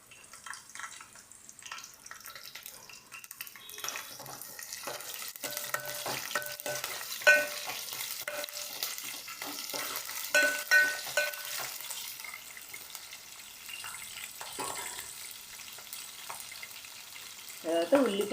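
Chillies and cumin seeds fry in hot oil with a continuous crackling sizzle, while a spoon stirs and scrapes the pan now and then, close and fairly loud, with no talking.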